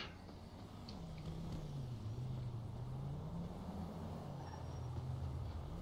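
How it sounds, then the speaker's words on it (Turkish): A car drives toward the player in GTA 5, a low engine drone rising and falling in pitch over a steady background rumble, faint and moderately distant. "şu an bir araba geliyor"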